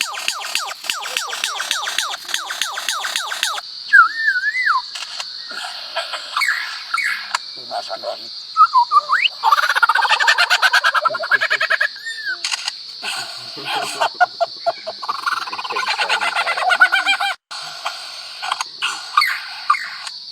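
A lyrebird mimics mechanical sounds: a steady high electronic-like tone runs throughout, layered with rapid clicking and rattling bursts, warbling whistles and siren-like swoops, fairly loud and close, with no speech.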